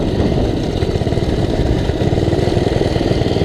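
A minibike's small engine runs continuously and loudly while riding, a steady rough buzzing drone close by with no talk.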